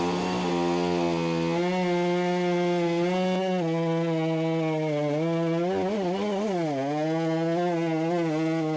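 Chainsaw running on a giant firewood round, a steady buzzing engine whine that dips and wavers in pitch as the chain bites into the wood, close and alone without speech.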